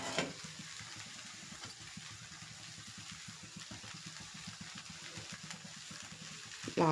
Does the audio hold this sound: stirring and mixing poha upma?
yes